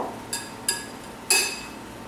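Three sharp clinks as a plate is set down in a kitchen while serving up a dish, each a quick bright ring that fades over a quiet background.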